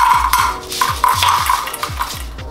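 Freshly baked homemade goldfish crackers are tossed into a bowl, giving a run of light, crisp clinks and rattles that repeat in quick uneven bursts close by, with no talking.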